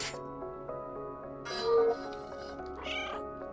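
A cat meows several times in a row in a video game, clear and close, with a louder drawn-out meow in the middle, over a faint electronic background.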